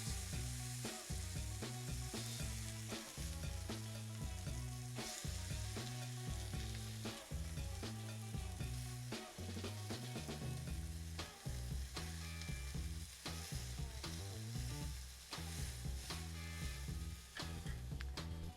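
Freshly flipped turkey burgers sizzle in a pan with a constant broadband hiss, fairly quiet and partly covered by rhythmic background music.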